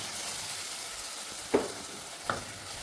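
Tomato puree sautéing in a pan with chili and turmeric powder, a low steady sizzle broken by two sharp scrapes of a spoon stirring.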